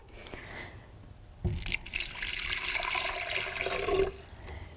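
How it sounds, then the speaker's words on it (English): A cup of water poured into a blender while making cashew mayonnaise, heard as a faint start and then a rushing, splashing pour lasting a couple of seconds before it trails off. "The first ingredient is 1 cup of water, which goes straight into the blender."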